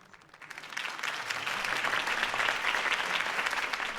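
A crowd applauds at a political campaign rally in the Batman Telltale Series game. Clapping swells steadily from quiet to a sustained, even roar that lasts throughout, with no talking over it.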